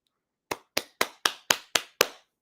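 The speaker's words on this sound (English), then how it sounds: "Round of applause to Stephanie." Seven sharp, evenly spaced claps ring out close and clear in a quiet room, each with a short decaying tail, more like one person clapping than a crowd's applause.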